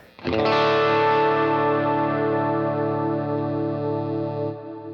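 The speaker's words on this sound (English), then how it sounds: "it's called the Glitz reverb." A sustained electric guitar chord rings out, washed in lush, shimmering Glitz reverb with a wavering chorus-like texture, decaying slowly and cut off near the end.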